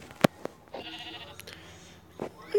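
A sheep in a video game lets out a few short bleats among brief game effects, the calls close and fairly clear, with the sound rising at the end.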